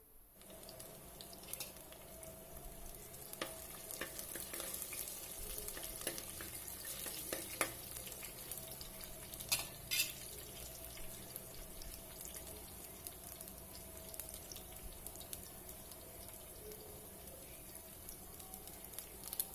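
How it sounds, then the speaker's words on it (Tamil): Onions sauté in a clay pot, giving a low, steady sizzle with scattered scrapes and clicks as they are stirred, fairly faint and without speech. "இப்போ நல்லா வதக்கிடுவோம் அதை."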